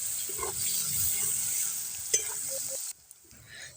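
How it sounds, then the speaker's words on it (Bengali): Chopped onions sizzle and fry in a pan with cumin seeds, a steady bright hiss with occasional stirring scrapes, then the sizzle drops away abruptly near the end, leaving faint clinks. "তো এবার আমি পেঁয়াজ কুচিগুলো দিয়ে দিলাম। তো এবার এগুলোকে ভালো করে একটু ভেজে নেব লাল লাল করে।"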